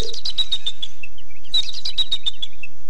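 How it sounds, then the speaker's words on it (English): An eagle in the Carmen Sandiego time-travel game lets out two bursts of rapid, high, thin chirping calls, each a quick series of notes, loud and clear with nothing else around. "For a big bird, that eagle has a pretty small call."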